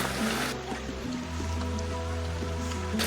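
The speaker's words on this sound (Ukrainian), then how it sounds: "Падає дощ." Steady rain falls in a continuous soft hiss, with a low background hum and no one speaking.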